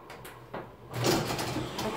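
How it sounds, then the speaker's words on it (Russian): An elevator door slides open on a trip in Germany, a soft mechanical rumble and whoosh that swells midway and carries on through a faint hum. "Дверь открылась."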